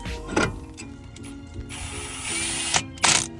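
A ratchet clicking as it drives two Phillips screws into the brake rotor on a 2016 Kia Soul, close and fairly quiet, with short bursts of rapid pawl clicks and brief pauses between them.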